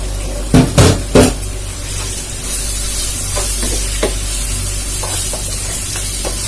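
Fenugreek, turmeric and garlic fry in a pan with a steady loud sizzle, a few sharp stirring scrapes near the start and occasional small spits over the continuous hiss.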